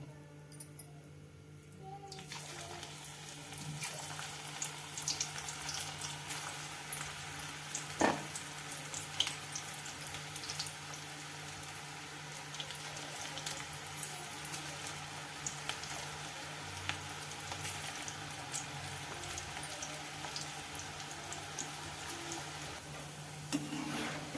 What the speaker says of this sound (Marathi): याच पद्धतीने आपण बाकीचे उरलेले भजेही तळून घेणार आहोत